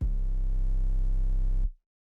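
A long Grinch 808 bass note programmed in FL Studio for a beat, a deep sustained sub tone held steadily for about a second and a half before cutting off abruptly, loud and alone.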